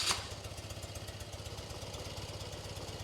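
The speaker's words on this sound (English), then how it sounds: "right now it's idling the highest at about 1 turn out" A 1980-1996 BMW engine idles steadily after an idle mixture screw adjustment to about one turn out, a low, even, pulsing rumble heard faintly and alone.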